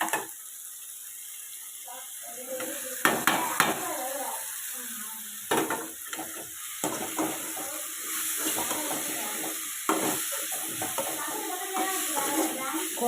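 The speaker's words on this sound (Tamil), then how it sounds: "இப்போ நம்ம அது கூட கோவக்காயை சேர்த்துக்கலாம்." Ivy gourd stir-fried with onion and tomato crackles in a pan, a soft frying hiss broken by several sharp clattering stirs and scrapes, close and moderately loud.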